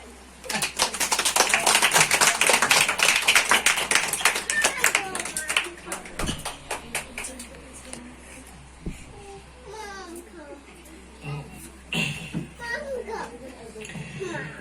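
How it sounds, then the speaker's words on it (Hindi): A group of people clap along to a devotional song at a clothes distribution gathering, the rhythmic claps loudest at first and then fading under singing and children's voices. "सब लोग ताली बजाएंगे।"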